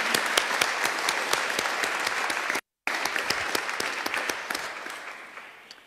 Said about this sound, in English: could you please give each other a little round of applause and thank the Lord